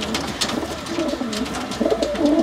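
A pigeon in a loft coos in repeated low, throaty, rolling phrases, close and clear, growing a little louder toward the end.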